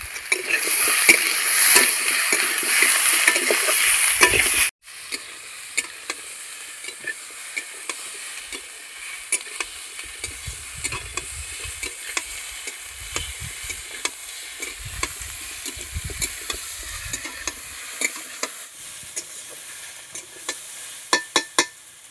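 Masala for a rupchanda fish curry with taro and potato is stirred and sautéed in a pan: a loud burst of sizzling at first, then a quieter frying hiss broken by repeated sharp scrapes and clicks of the spoon against the pan.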